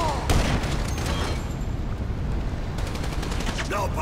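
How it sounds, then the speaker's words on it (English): Loud, dense gunfire from the video game Grand Theft Auto 5 in rapid bursts, with sharp cracks including sniper rifle shots layered over a busy battle din, and a voice briefly heard over the shooting. "it's a sniper rifle."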